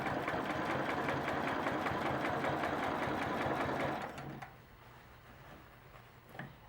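A sewing machine stitches down the side of a quilt block with a ruler as a guide, running steadily and close for about four seconds before stopping, followed by faint handling noises and a small knock.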